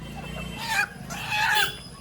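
Chickens cluck and call in bursts over a busy background hum, with low chatter mixed in, at a poultry stall in an old market in India.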